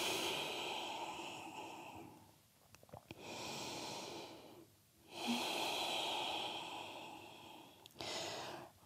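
Slow, deep breathing in a yoga forward fold: long airy inhales and exhales near the mic, three full breath cycles separated by brief pauses and a soft snort.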